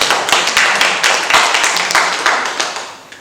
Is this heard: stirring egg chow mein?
no